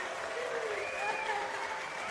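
A crowd at a high school homecoming queen announcement applauds wildly, a dense steady wash of clapping throughout, with a faint rising cheer or whistle above it.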